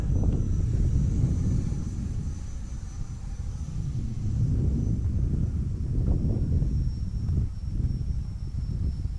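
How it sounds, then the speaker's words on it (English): An Arrows RC Marlin EDF model jet flying in a cross breeze, giving a steady broadband ducted-fan rush and rumble with a faint high whine throughout, carried on wind noise with no talk. "What a nice jet."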